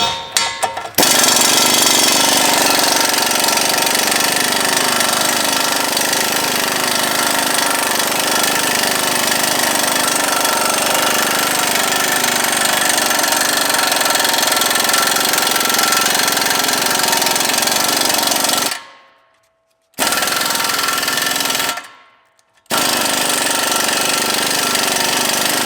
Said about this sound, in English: We're going to take the caliper bracket off so we can replace the rotor.